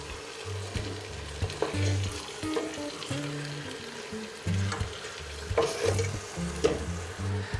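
Rabbit pieces browning in a frying pan, a close steady sizzle with crackles, occasional pops and clatters of pieces being turned, moderately loud with no voices.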